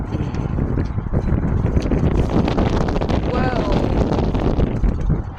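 Strong wind buffets the microphone in a constant roaring rumble, with faint voices and a brief whistling tone partway through.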